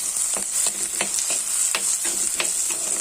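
Onions and mango sautéing in a pan for a fish curry, a steady bright sizzle with regular soft scraping stirs every half second or so, close and continuous with no talking.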